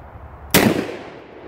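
A single loud, close blast from a Mossberg Shockwave shotgun, a sharp crack that rings out briefly and fades, with nothing else around it.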